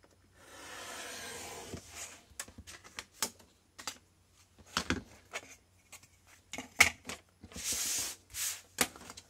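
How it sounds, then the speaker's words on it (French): Excess paper is cut and trimmed for a scrapbook album page, a brief rasping slice first, then a series of crisp clicks, taps and rustles at close range, with no speech. "Là je vais couper également le supplément de mon papier."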